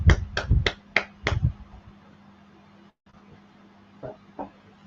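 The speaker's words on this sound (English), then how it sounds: "All right, clap it up." A handful of loud, close hand claps come in a quick burst at the start after a call to clap it up. Quiet room noise follows, with a couple of faint knocks near the end.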